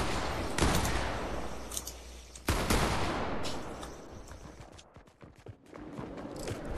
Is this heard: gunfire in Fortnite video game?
yes